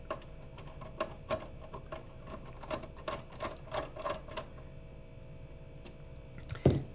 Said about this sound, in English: Go ahead and screw that in. Top one and then the bottom one.